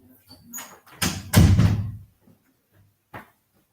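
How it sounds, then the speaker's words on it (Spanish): Indoor door pushed shut during a conversation, heard as a brief rustle and creak followed by a loud, full thud, with a faint click afterward in an otherwise quiet room. "dame un segundo que voy a cerrar la puerta"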